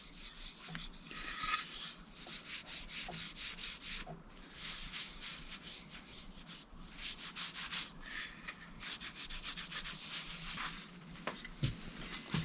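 Close, steady rubbing of a cloth applying Osmo oil finish onto a walnut box, a continuous soft scrubbing texture with repeated strokes running throughout, no talking.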